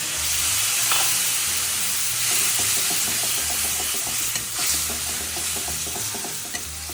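Spice paste for a no-onion, no-garlic dum aloo with small new potatoes frying in a pan, a steady loud sizzle with repeated scraping stirs, no voices.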